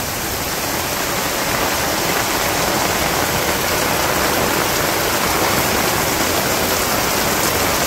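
Steady heavy rain pours down in a Bangladesh village, a dense, continuous hiss of drops on surfaces that stays loud and unbroken throughout, with no voices.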